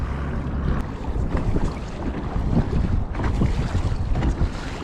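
Choppy water slapping around a kayak on shallow flats with strong wind buffeting the microphone, a continuous loud rush of waves and gusts throughout.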